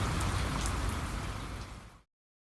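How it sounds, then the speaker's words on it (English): Steady heavy rain pouring down, a dense continuous hiss with patter close by, loud and unbroken until it cuts off abruptly near the end. "the sound of rain"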